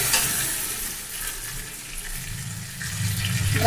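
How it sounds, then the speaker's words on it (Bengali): Hot water is poured into a simmering tilapia curry with pointed gourd and pumpkin. A loud, sizzling splash and bubbling swell in the pan, growing deeper and stronger toward the end, with no talking. "তো এবার আমি একটু গরম জল দিয়ে দেবো।"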